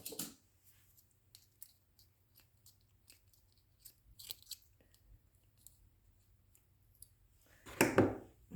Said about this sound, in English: all I'm going to do is cut off that little tail